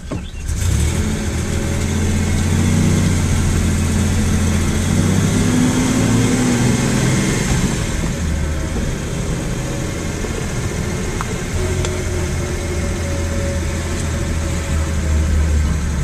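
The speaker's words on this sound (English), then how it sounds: "So now we're backing down the driveway." A Datsun 240Z engine rumbles steadily while the car backs down a driveway, a close, continuous low drone with slight shifts in pitch and no talking.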